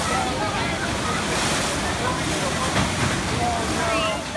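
Rushing, splashing water on a rapids ride at West Midlands Safari Park on a cold October day, a steady loud broadband wash filling the whole moment with faint voices underneath.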